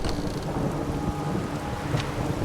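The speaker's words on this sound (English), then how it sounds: "A storm." Steady rain and a low rumble of thunder from a thunderstorm in the video game The Witcher 3, a dense, unbroken wash of sound with no voices.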